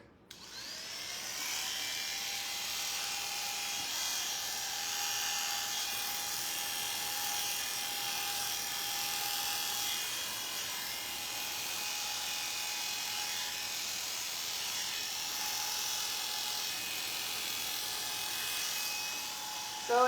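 Electric clippers steadily shave a schnauzer's neck, giving a continuous close high-pitched buzzing hum that runs unbroken for about twenty seconds.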